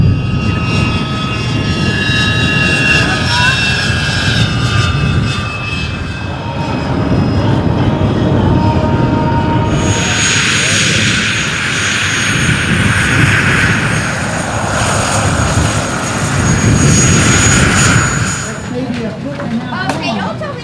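A large-scale RC tandem helicopter, designed and built by a father and son, flies at an RC helicopter event, its rotor and engine whine droning steadily under a voice that keeps talking throughout.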